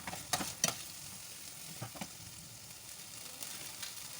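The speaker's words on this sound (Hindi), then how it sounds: "ये वेजिटेबल्स, एक कैप्सिकम है, एक टमाटो है और एक ही अनियन है, इसको हम फ्राई कर लेंगे 1 मिनट के लिए" Chopped capsicum, tomato and onion fry in oil with a soft, even sizzle. A spoon scrapes and stirs them in a few light bursts, with no voices.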